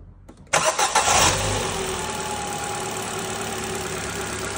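A Ford 1.25-1.6 Zetec engine cranks briefly, fires on its first start after a timing belt replacement, flares loudly, then settles into a steady close idle.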